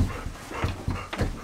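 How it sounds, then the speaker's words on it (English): Excited pet dogs waiting by the coat rack for a walk pant rapidly in short rhythmic huffs, close and fairly loud, with brief whimpers mixed in. "as soon as I go anywhere near here, the dogs get so excited"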